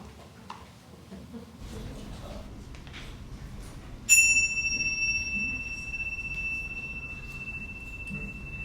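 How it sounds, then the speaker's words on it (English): A single bright chime rings out clearly and sustains with a long, slowly fading tone over faint room noise. "let us center our hearts and minds with the ringing of the chimes"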